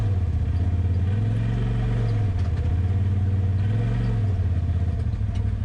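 A Kawasaki Mule utility vehicle drives over rough ground, its engine droning loud and close with a steady low hum that rises and falls in pitch, with faint clattering over the top.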